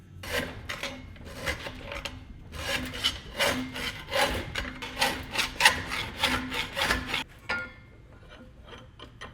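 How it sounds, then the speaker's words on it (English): Hand file rasping across the ridges of a kart exhaust header for a 60HP dragster kart, a steady run of close, loud back-and-forth scraping strokes that stops near the end. "Filing down the ridges on this header is taking a long time with just a file"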